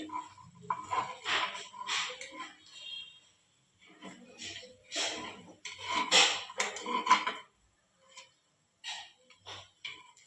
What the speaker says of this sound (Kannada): ಇವಾಗ ತಿರ್ಸ್ಕೊಂಡು ಇನ್ನೊಂದು ಸೈಡ್ನ ಫ್ರೈ ಮಾಡ್ತೀನಿ